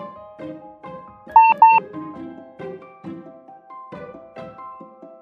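A mobile phone beeps in a classroom setting, two loud bright tones in quick succession around the middle, standing out over a quieter bed of background music and soft tonal sounds.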